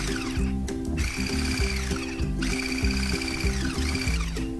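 Electric beater whipping eggs into a stiff foam, a steady motorized whir with rhythmic pulsing and scraping against the bowl, close and continuous.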